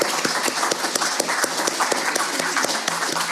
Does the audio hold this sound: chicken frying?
no